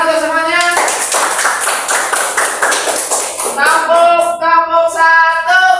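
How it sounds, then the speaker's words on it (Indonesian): Students in an Indonesian classroom clap their hands together in a loud burst lasting a few seconds, with voices chanting or calling out before and after the clapping. "Tepuk tangan untuk semuanya."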